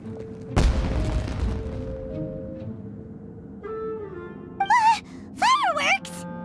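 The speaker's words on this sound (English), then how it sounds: "It sounded like fireworks." Fireworks burst in the Genshin Impact video game: a sharp loud boom lands early, its crackling tail decaying under game music and tonal effects, followed later by whistling rising and falling tones.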